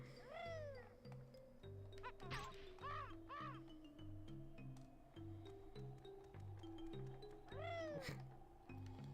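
A cat meows repeatedly outside a door, rising and falling cries, over a looping musical backing of low steady notes from the video game Banjo-Tooie.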